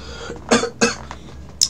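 Two sharp coughs in quick succession, close and fairly loud, followed by a brief high squeak.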